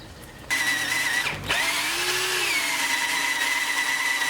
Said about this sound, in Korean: 요즘 그는 일을 마치고 집으로 돌아오면 직접 나무를 깎아 공예 품을 만든다.